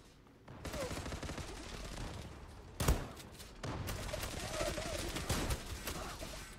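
Pump shotgun fire in the online shooter Zula, heard as a sharp close blast near the middle of a steady wash of game noise and distant gunfire.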